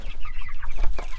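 Meat chickens cluck in quick, loud, close bursts, several birds overlapping in a busy chatter with no voices.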